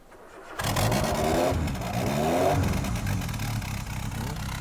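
A Soviet Cold War-era classic car with carburettors cranks and fires up, then revs loudly with a rising and falling engine note and some clatter, close by, no talking.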